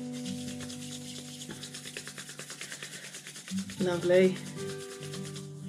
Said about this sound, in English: Rub those hands together.